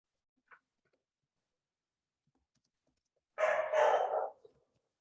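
A dog barks twice in quick succession, close and fairly loud, after a faint click and a stretch of quiet, with no talking.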